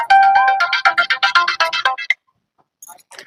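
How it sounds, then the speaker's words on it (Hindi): A phone ringtone plays loudly in a rapid, repeating melodic pattern for about two seconds, then stops; faint voices follow. "फोन आ गया।"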